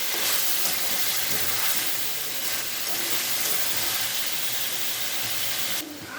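Radish and potatoes being sautéed in a pan with meat and spices, giving a dense, loud, continuous sizzle throughout with no voices.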